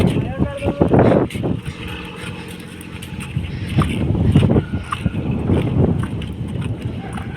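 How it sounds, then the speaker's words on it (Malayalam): A motorboat's engine rumbles nearby as it passes, amid wind and water noise, while people talk intermittently over it. "അപ്പോൾ അതെ ബോട്ട് വന്നുകൊണ്ടിരിക്കുന്നു"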